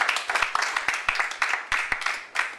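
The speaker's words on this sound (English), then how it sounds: "Give a hand clapping to Jesus Christ once again" A church congregation claps by hand in short, uneven bursts of sharp slaps, fairly close and moderately loud, with no talking over it.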